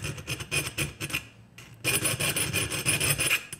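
Metal file rasps in quick back-and-forth strokes, beveling the sides of plier jaws being smoothed for jaw harp repair, close and rhythmic with a short pause midway before a denser run of strokes.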